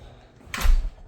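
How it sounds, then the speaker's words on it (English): A seven-year-old steel fireproof garage door being opened gives a single sharp clatter and thud, loud and close against quiet room tone. "Okay, steel fireproof door."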